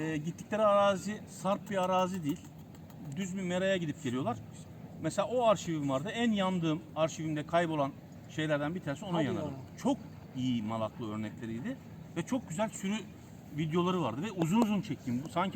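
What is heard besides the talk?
No distinct noise like a dog, phone or traffic.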